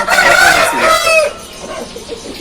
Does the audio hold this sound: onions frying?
no